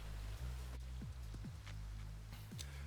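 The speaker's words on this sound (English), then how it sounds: "But it's raining really loud." Heavy rain pours outside, a dense, constant hiss of drops drumming on surfaces. Scattered louder drips and splashes sit on top of the roar, close and unbroken throughout.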